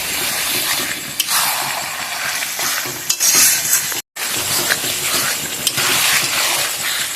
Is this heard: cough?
no